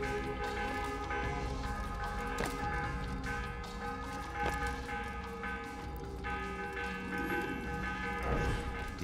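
Church bells peal through a medieval town in Assassin's Creed, set in Damascus, a steady layered ringing with sustained tones that runs the whole time under ambient game sound.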